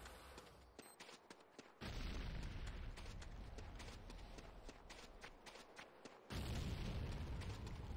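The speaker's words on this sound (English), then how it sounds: "C4 is set. Keep them coming. Fire in the hole." A C4 charge detonating in the video game Command & Conquer: Renegade, heavy booming blasts rising sharply near two seconds and again after six seconds over dense crackling battle noise, loud and close with no voices.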